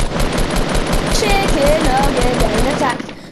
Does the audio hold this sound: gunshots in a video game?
yes